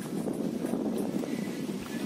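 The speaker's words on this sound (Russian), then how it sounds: "Слушать вот как сейчас шум ветра" Wind blows at a seaside resort in Mui Ne, a steady broadband rush with gusty rumble buffeting the microphone throughout, and no clear voices.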